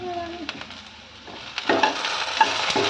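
Okra (bendakaya) sizzles softly as it is stir-fried in a pan, with intermittent scraping and stirring clatters over a steady frying hiss.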